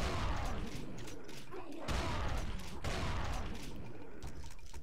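Rapid bursts of gunfire from a first-person shooter, a dense, continuous barrage of loud shots that fills the whole stretch, with a brief lull near the middle before the firing resumes.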